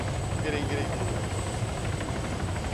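Helicopter in a video game, a steady whirring rotor drone beneath players talking over each other.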